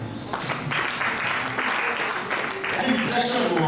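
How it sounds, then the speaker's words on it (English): Audience at a youth urban agribusiness bootcamp clapping steadily and fairly close for the whole stretch, a dense even patter with some voices mixed in. "Please, can you clap for yourself?"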